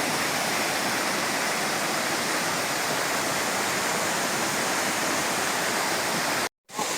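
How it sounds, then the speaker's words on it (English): Natural waterfall at Wulai pouring in a steady, loud broadband roar that holds unbroken for over six seconds, then cuts out abruptly near the end. "It's pure natural waterfall."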